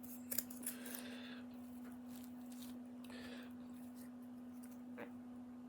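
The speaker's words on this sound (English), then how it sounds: "So I'm going to cut quite a few pieces of it now." Scissors cut pieces of patch material for repairing a hole in a van, with a few quiet snips and short slicing strokes over a low steady hum, faint and close with no talking.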